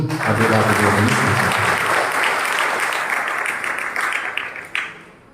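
A church congregation at Sunday Mass applauding loudly and continuously, the clapping tapering off near the end, with a voice faintly heard beneath.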